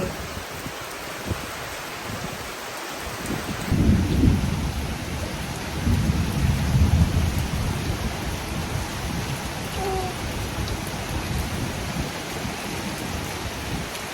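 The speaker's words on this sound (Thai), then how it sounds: "เย็นแล้วเนาะฝนตกเนาะ" Steady rain hisses across the whole scene, with a low rumble of thunder rolling in partway through; no one speaks.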